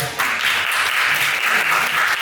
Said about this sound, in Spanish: Un fuerte aplauso a la doctora Brenda, por favor.